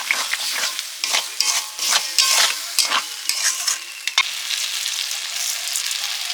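A jackfruit and prawn curry is cooked down with water in a pan, heard as a run of rhythmic scraping stir strokes over a wet sizzle that settles into a steadier, quieter hiss.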